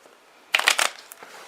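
Tarot cards handled and shuffled in one brief, crisp papery burst of riffling after a moment of near silence, with a faint flick trailing off.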